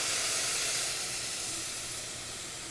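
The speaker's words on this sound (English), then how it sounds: "We're going to deglaze with some stock." Vegetable stock hits a hot pan to deglaze after red wine, giving a loud, steady steaming sizzle and hiss that slowly fades, with no talking.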